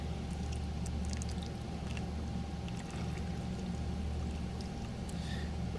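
Water pours steadily into a metal canteen cup holding lemon lime drink mix, a continuous close splashing stream with faint clinks and no talk.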